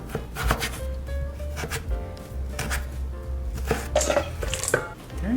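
A knife slicing a vegetable into thin matchsticks on a cutting board for Filipino shrimp fritters, with quick irregular chops and board knocks close up, no talk.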